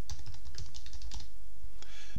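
Rapid, close clacking of keys as a word is typed on a computer keyboard, a quick burst of taps followed by a pause and a couple of final presses, with no talking.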